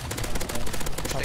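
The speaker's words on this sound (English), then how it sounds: "Keep shooting. Stay away from the boss. Keep shooting. Come on, shoot it." Rapid continuous automatic gunfire in the game CS:GO during a zombie escape boss fight, dense loud bursts with a steady rattling rhythm filling the whole moment.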